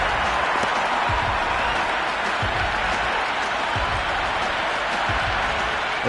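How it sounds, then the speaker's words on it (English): A stadium crowd at an India versus New Zealand T20 cricket match cheers and claps steadily after a six, a dense, continuous roar of applause with no break. "The crowd are loving every minute of this match."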